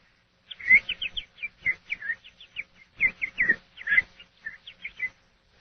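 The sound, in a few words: whistled imitation of birds chirping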